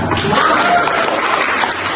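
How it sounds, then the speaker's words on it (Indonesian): A classroom of students applauding together, a dense, steady wash of clapping at moderate loudness with no speech over it. "berikut tepuk tangan untuk kalian semua"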